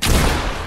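A brief, loud blast of video-game gunfire, a dense burst of shots that starts abruptly and tails off slightly within a fraction of a second.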